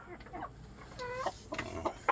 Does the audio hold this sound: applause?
no